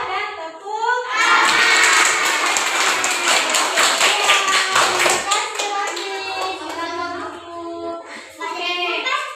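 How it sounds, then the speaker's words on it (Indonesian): Schoolchildren clapping in a classroom, a loud burst of rhythmic, chanted hand-claps in unison after a group discussion, with children's voices shouting and singing along, then a teacher talking as it fades. "Sama-sama berarti kita kasih alhamdulillah dan tepuk"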